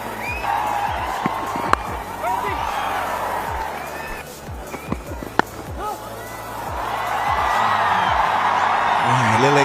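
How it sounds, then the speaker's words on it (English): A cricket stadium crowd at an India versus Australia ODI murmurs and swells into cheering, a broad distant roar rising toward the end, with a commentator's voice talking over it. "A little excitement around the crowd."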